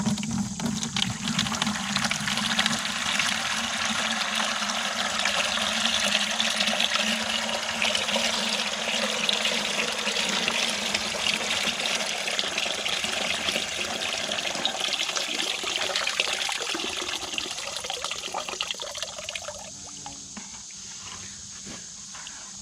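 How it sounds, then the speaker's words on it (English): Muddy water being poured slowly through a sieve while making clay from dirt, a steady rushing trickle close by that runs on for about twenty seconds and then thins out and fades near the end. "I'm getting ready to pour in. Go real slow so that only the water goes through."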